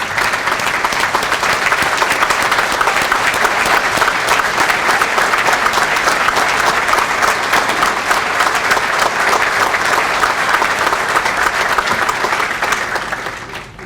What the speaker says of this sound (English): can we give a standing round of applause for our family members that are here right now?